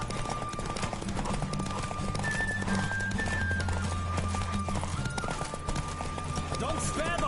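Roach the horse galloping in a race in the video game Witcher 3, a steady rapid clip-clop of hooves heard throughout beneath game music and talking voices.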